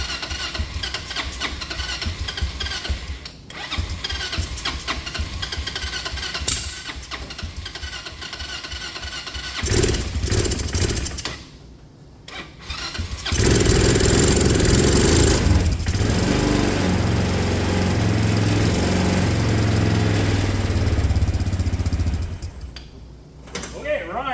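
A go-kart engine, freshly fueled after cleanup, cranks over in rough bursts, then catches and runs loud and steady close by, with a lawn-mower-like small-engine drone; someone talks over the early cranking.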